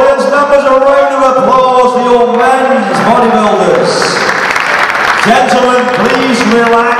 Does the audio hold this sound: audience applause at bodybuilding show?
yes